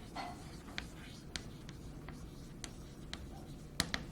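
Chalk or a marker writes on a board during a math lecture, with soft scratchy strokes and sharp taps spaced irregularly over a quiet room hum.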